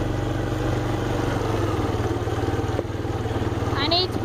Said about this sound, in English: So now we're just riding down here.